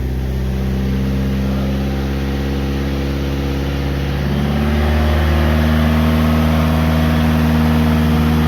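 A 2012 Chevy Malibu engine runs at high idle: a steady, loud mechanical drone with no talk, its pitch shifting slightly partway through before holding constant again.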